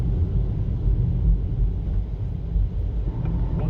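A 2025 Acura ADX A-Spec AWD compact luxury SUV drives along with a steady, low engine and road rumble that stays even throughout, with no talking.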